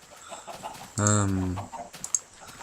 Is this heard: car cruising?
no